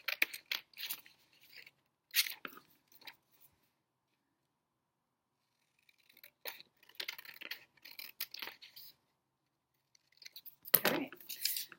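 Scissors snip through paper while a circle is cut out, a few quiet, scattered cuts and rustles with long silent gaps between them, close and faint.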